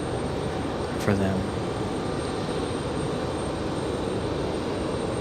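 Aircraft engines rumble as a broad, steady roar at Raleigh Durham International Airport, distant and continuous, with a short voice and a brief beep near the start.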